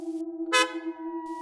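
A car horn gives a short, steady honk on a dark night road through tall grass, sustained and fairly clear with a brief louder burst in the middle.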